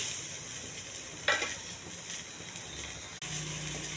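Chopped onions go into a pan with mustard seeds, cumin, chana dal and curry leaves and fry with a steady, close sizzle and occasional stirring scrapes, briefly interrupted near the end.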